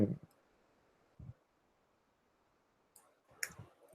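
A few scattered keyboard clicks, tapped singly and in a short cluster near the end, with quiet pauses between them.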